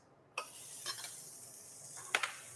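Onions sizzle gently in a pan over a slow, low heat, a soft steady hiss broken by a few sharp clinks of a utensil against the pan.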